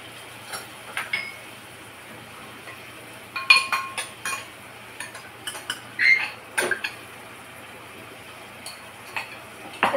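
A spoon clinks and scrapes against the metal pressure cooker while curd is stirred into dum aloo, giving scattered light taps and clatters over a quiet background.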